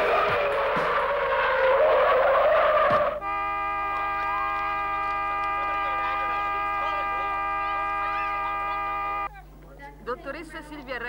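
Car speeding toward an intersection and skidding in a near collision, a loud, close engine and tyre screech for about three seconds, then a long steady tonal drone, with voices speaking over it.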